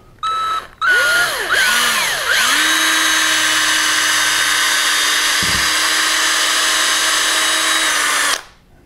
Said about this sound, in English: Drill through at that angle.